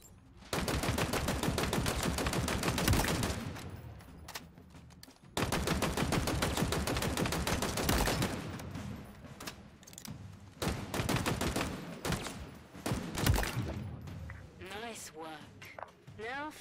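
Gunfire at training targets in Halo Infinite comes in long, loud rapid-fire bursts separated by short pauses, with fainter shots and voice-like sounds near the end.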